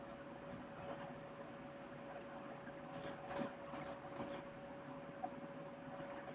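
A short burst of computer keyboard keystrokes, a handful of light clicks in quick succession, sits faintly over a steady electrical hum while drafting in Archicad.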